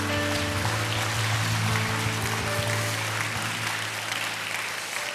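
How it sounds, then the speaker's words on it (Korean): Church congregation applauding at an Easter Sunday dawn prayer service, a steady wash of many hands clapping throughout, loud and dense, with sustained organ or keyboard tones underneath. "우리 부활하신 주님에게도 영광의 박수를 올려드리겠습니다."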